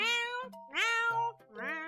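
A human voice imitates a cat meowing, three drawn-out, pitched meows in quick succession, close and clear with short gaps between them.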